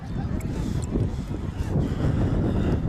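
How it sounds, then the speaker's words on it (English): Steady gusting wind roars against the microphone on a windy night at an outdoor high school football game, a constant broadband rush with low buffeting that fills the whole stretch. "Windy night."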